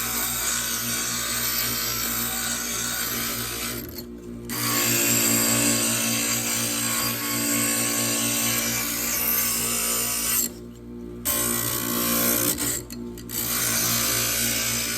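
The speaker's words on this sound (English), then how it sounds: "when you're doing the grinding, you don't want to just sit in one place like this" Glass grinder grinding the edges of stained glass pieces for a sun catcher, a continuous loud whirring grind that breaks off briefly three times as the piece is repositioned, no talking.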